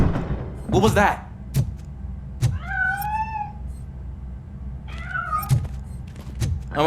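A cat meows twice in the RoboCop: Rogue City video game, short rising-and-falling calls heard amid dull thumps and a low background hum.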